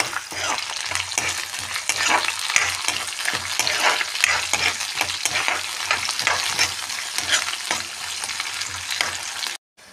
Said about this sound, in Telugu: 4-5 పచ్చిమిర్చి వేసుకొని కలుపుకోవాలి.